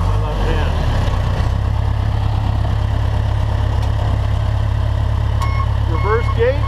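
A John Deere 450G dozer engine holds a steady, loud low rumble that swells slightly as the throttle is opened, a continuous heavy-machine drone with a few brief higher squeaks near the end.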